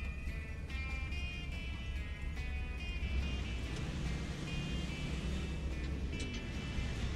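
LAZ-695N bus in OMSI 2, a 2000-model bus driving with constant low engine drone while its body rattles, creaks and clatters throughout, steady and close with no talk.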